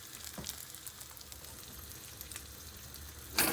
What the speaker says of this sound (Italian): saltiamo leggermente di modo da non far bruciare il pomodoro e neanche l'aglio